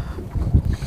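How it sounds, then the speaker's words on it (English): Strong gusting wind buffets the microphone outdoors near open water, a loud low rumble that swells and peaks midway with no one speaking. "the wind's getting tough again"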